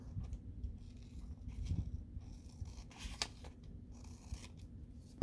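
Scissors snip through paper for a craft project, several quiet, close cuts in a steady irregular rhythm over a low background hum, ending with one sharp snap.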